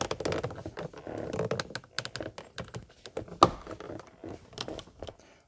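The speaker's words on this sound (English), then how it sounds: "Then insert the pin inside the grommet there." Plastic pin pressed into a trim panel grommet on a BMW E32/E34 during brake light switch replacement, heard as a busy run of close, sharp plastic clicks, taps and rubbing with one firmer snap near the middle.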